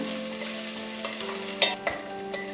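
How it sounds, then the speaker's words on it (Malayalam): Curry leaves and shallots with ginger and green chillies frying in oil for rice upma, a steady close sizzle broken by a few sharp stirring scrapes. "കറിവേപ്പില, ചുവന്നുള്ളി, നന്നായിട്ടൊന്ന് മൂത്ത് വരണം."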